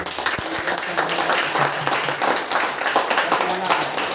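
A large audience bursts into loud, sustained clapping at a motivational talk, steady and dense throughout, with some speech in the background.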